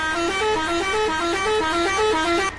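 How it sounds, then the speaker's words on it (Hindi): A Sonalika DI 750 tractor horn in Farming Simulator 19 sounds continuously in a looping two-tone pattern, loud and steady, over a low engine hum. "तो हॉर्न अभी चल रहा है"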